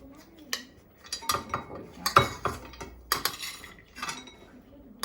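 A spoon scrapes and taps rice porridge mixed with dry pet food onto a pet's birthday cake, giving sharp irregular clinks and scrapes against a dish with quiet pauses between, close and clear.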